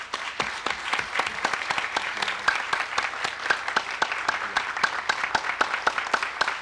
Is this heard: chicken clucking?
no